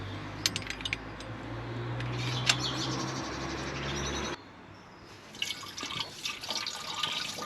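Deionised water trickles and drips into an old project car's nearly empty cooling system, steady liquid pouring for several seconds, then quieter with small splashes and taps near the end.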